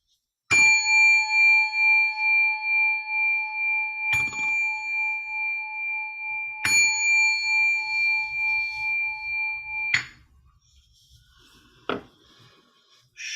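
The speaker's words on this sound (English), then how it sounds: "after the gong has been sounded 3 times" A meditation gong is struck three times, each ringing, sustained bright tone decaying slowly before the next strike, followed by a fainter metallic tap and near-silence at the end.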